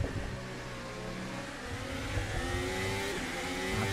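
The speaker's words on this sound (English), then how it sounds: "I can hear the engine kind of going down in revs a bit too." A VRC Formula Alpha open-wheel race car engine in a sim racing game at Suzuka, a steady whining drone with revs gradually sagging and gear-like tonal steps, continuous and fairly close.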